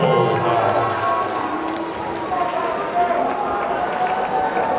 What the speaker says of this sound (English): Let's hear it for Patrick McDonald.